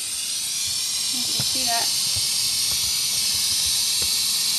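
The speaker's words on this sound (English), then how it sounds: "I'll go ahead and show you what happens with the frother." Steam wand frother on a La Pavoni Europiccola espresso machine that has problems, hissing loudly and steadily throughout at close range, with someone speaking briefly over it.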